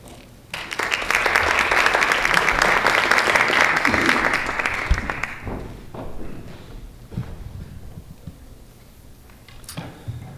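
A conference audience at an industry event breaks into steady applause welcoming a speaker to the stage, loud and sustained for several seconds before tapering off into scattered claps and room noise.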